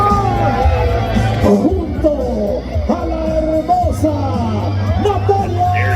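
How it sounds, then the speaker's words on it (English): A large crowd heading toward Foro Sol stadium, with dense babble, scattered shouts and whoops, and a nearby voice talking over the hubbub throughout. "thousands of people still heading towards the Foro Sol stadium. So here's just to give you kind of an idea of what the crowds look like"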